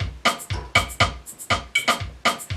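An Afrobeat percussion loop of bass drum, rim clicks, egg shaker and cowbell repeats in a tight, steady groove of sharp accented hits, close and even with no voices.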